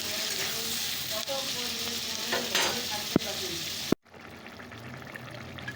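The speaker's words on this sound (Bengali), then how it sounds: "সবজিটা ভাজা ভাজা হতে থাক" Vegetables frying in a pan for a fish curry with potato, eggplant, tomato and peas, a steady close sizzle with occasional stirring clinks, ending abruptly before quieter kitchen background.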